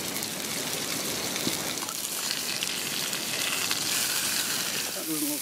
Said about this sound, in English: Starting to sizzle nicely.